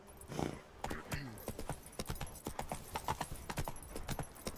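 Horse hooves clip-clopping in The Witcher 3 video game, a quick steady trot of close, crisp hoofbeats with a brief whinny-like sound near the start, quiet overall with a voice briefly present.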